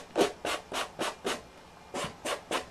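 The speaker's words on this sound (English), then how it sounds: "take a piece of sandpaper, a sandpaper block, and sand down those rough edges" Eight rhythmic rubbing strokes as a sandpaper block sands the rough paper edges of a scrapbooking box, close and fairly loud, with short pauses between the passes.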